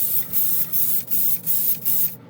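An airbrush sprays color shift paint in a loud, close, continuous hiss, broken into about five short bursts by brief pauses before it cuts off.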